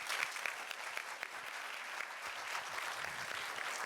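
Applause from the audience at a business awards event honouring a financial services company, a continuous, even patter of many hands heard at a distance and fairly quiet.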